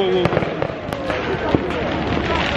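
New Year fireworks over Bucharest near a lake, with scattered pops and sharp bangs at some distance above a crowd murmuring and voices nearby.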